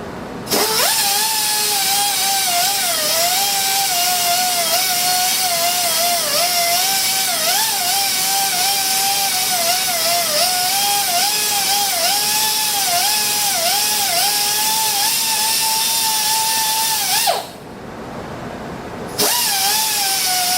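A rotary grinder whines steadily and loudly while shaping custom pistol grips for a Sauer 38H in 7.65 mm. Its pitch wavers as it bites into the material, then it briefly drops off near the end before resuming.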